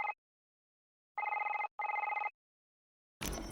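A telephone rings in the video game Doctor Who: The Lonely Assassins, giving three electronic bursts of bell-like tone separated by gaps, with a louder, harsher noise cutting in at the end; no talking.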